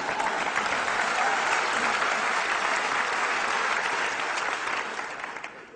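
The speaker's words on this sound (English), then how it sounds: "you can clap for that." Steady, dense audience applause from a crowd at a speech, loud and continuous throughout before tapering slightly at the end.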